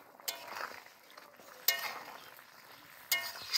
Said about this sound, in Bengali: এখন দিয়ে দিব মাছ।